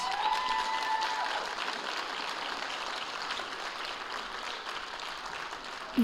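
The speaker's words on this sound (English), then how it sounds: "Give yourself a round of applause." A school board meeting audience gives sustained, even applause from many hands, filling the room at a steady level from start to finish.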